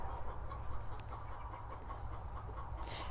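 A broody hen clucks softly and intermittently over a steady low background hum, with a brief brighter rustle near the end.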